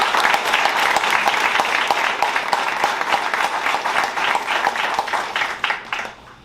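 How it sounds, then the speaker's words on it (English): Attendees at a Chicago press conference on a public-private violence-prevention partnership applaud the sponsors. The clapping is brisk and fairly loud for about six seconds, then fades out at the end. "I'd like to give each of them a round of applause for the very generous support"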